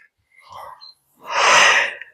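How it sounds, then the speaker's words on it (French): A single sneeze, preceded by a brief sharp inhale, close to the microphone and fairly loud, with no talking around it. "Je vais éternuer."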